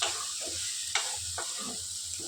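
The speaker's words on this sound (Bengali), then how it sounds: "ভালো করে কষিয়ে ভেজে" Spiced vegetables with cumin and coriander powder sizzle steadily in a pan, with several sharp scraping stirs of a spatula cutting through the close, continuous frying hiss.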